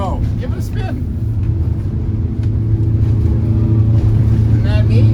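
A power catamaran runs at 19 knots through heavy, sloppy seas, its engines making a loud, steady low rumble that swells slightly near the end. Voices call out over the engine noise.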